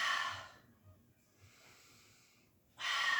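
A slow, airy breath during a pilates exercise: a strong hissing exhale, a faint quieter stretch, then another sharp breath, close and soft overall.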